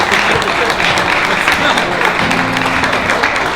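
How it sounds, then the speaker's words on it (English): Continuous dense applause at a World Series of Poker tournament as a second-place finisher is honored, loud and close, with a faint voice beneath it. "Big round of applause, everybody."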